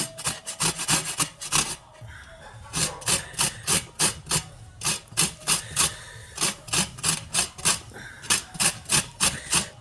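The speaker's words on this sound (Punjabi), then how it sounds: "ਜਿਹੜੀ ਚੁਕੰਦਰ ਆ ਆਪਣੀ ਇਹਨੂੰ ਕੱਦੂਕਾਸ਼ ਕਰ ਲੈਣਾ ਵਾ ਕੱਦੂਕਸ ਕਰ ਲਓ ਇਹਨੂੰ" Beetroot rubbed on a kitchen grater: a steady run of rhythmic rasping strokes, close and fairly loud, each pass a short scraping burst with brief pauses between, no talking.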